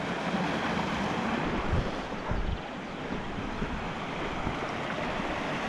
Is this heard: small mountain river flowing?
yes